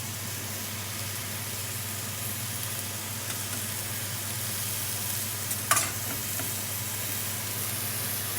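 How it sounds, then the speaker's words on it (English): Stock poured into risotto simmering in a pan, a steady sizzle and hiss with a short splash of liquid near the end, close and continuous with no talking. "A little bit more stock on the risotto."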